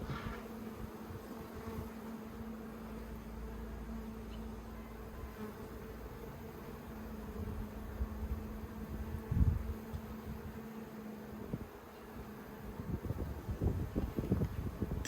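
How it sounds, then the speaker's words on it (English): Honey bees hum continuously around an open top bar hive set up as a nucleus colony, a steady close buzz with wind brushing the microphone and brief louder swells as bees pass near. "plenty of bees on those external frames"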